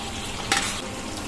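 Paneer pieces lifted from water and dropped into simmering onion- and garlic-free masala gravy give a brief soft plop and stir midway over a steady low sizzle, with no talking.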